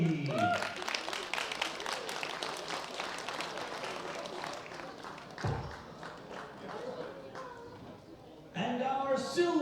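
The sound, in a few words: audience applause for the bronze medalist at a bench press championship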